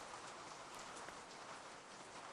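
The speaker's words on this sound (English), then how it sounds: "And it's raining." Rain falls steadily in a soft, even hiss, faint and continuous with no voices.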